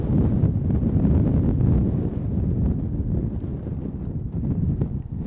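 Steady wind on a golf course buffets the microphone, a continuous low rumbling roar with gentle swells and no other sounds.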